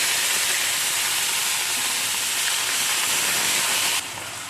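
Onion paste hits hot oil in a pan already holding lightly crushed whole garam masala, for a Bengali doi katla fish curry. It gives a loud, steady, close sizzling hiss that drops abruptly near the end, with no talking.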